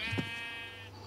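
A single short goat bleat from the Minecraft video game, a nasal wavering cry lasting under a second, close and clear over a low background hum.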